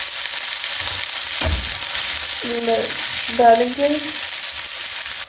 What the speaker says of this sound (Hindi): तो ये इधर हमारी सॉटे हो रही है